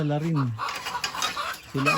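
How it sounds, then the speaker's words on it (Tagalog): Black hens with full feathers cluck close by in a yard, a short rising-falling call followed by scattered softer clucks and a second call starting at the end. "mga manok. Ayan sila"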